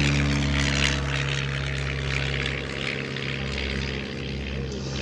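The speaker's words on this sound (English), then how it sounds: "Now, we've got the Blackburn B2" Blackburn B2 propeller aircraft flying at an air show at 120 miles an hour, its engine giving a steady, droning buzz with a strong low hum, close and loud throughout.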